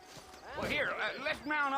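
Horses clip-clopping along in a video game, hooves sounding at a moderate distance beneath someone talking over them throughout.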